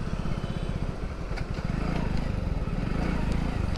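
Motorcycle engine droning steadily and close while the bike is ridden along a road, a low rumbling hum filling the whole stretch with faint clatter on top.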